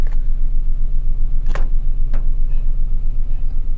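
A Suzuki Every DA64 van idles with its headlights on, its engine putting out a steady, loud, low rhythmic rumble, with a couple of brief clicks over the top.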